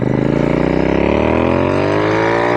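Royal Enfield Interceptor/GT hybrid motorcycle built in Clymer style revs hard on a ride, a loud close engine note climbing steadily through the gears with a fast rhythmic exhaust pulse, no talk over it.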